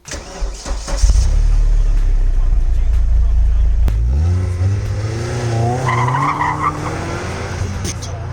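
An Opel Speedster Turbo with a 200-horsepower turbocharged engine fires up with a sharp burst, idles roughly, then revs and accelerates with rising pitch, loud and close, with a brief tire chirp late on.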